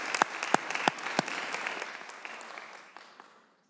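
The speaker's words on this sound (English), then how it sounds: "Can we give them a round of applause" A crowd in a legislative chamber during a House floor debate claps steadily, with a few sharp loud claps early on, then the applause thins and fades out.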